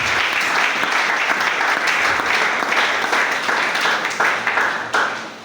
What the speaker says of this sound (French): Est-ce que nous pouvons acclamer la parole de Dieu?